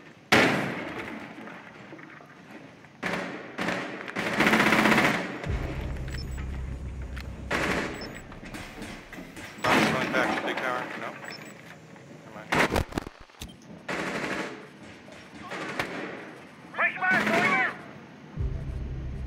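Gunfire crackles in bursts during a Rainbow Six Siege team deathmatch on the Oregon map, with sharp cracks and a low boom as a fragmentation grenade goes off amid the firefight, while players talk over the action throughout.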